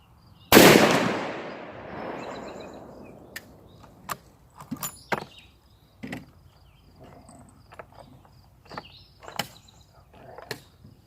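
A single sharp, loud blast from a Ruger M77 Hawkeye Alaskan .300 Win Mag rifle fitted with a muzzle brake rings out, decaying into echo, followed by scattered faint clicks and handling noises.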